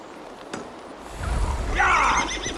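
A horse neighs in the video game Assassin's Creed Valhalla, a loud drawn-out whinny rising near the end over a low rumble, with a faint mechanical click earlier and no talk.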